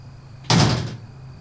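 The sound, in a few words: door sound in a house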